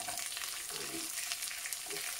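Onion, curry leaves and bajji chillies sauté in hot oil for devilled anchovies, giving a soft, steady sizzle with a few stirring scrapes, close and alone without voices.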